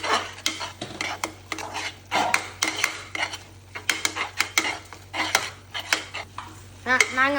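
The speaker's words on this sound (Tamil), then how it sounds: "இப்போ நல்லா கிண்டிக்கோங்க." Noodles with masala and egg are stirred in a pan, the utensil scraping and clinking against the metal in quick irregular strokes, with a faint sizzle beneath.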